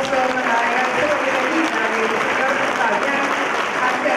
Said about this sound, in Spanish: Este es el aplauso para el